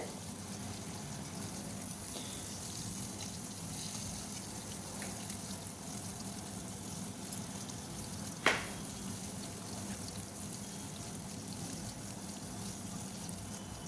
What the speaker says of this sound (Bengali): মাছগুলো একটু উল্টে পাল্টে ভালো করে ভেজে নেবে।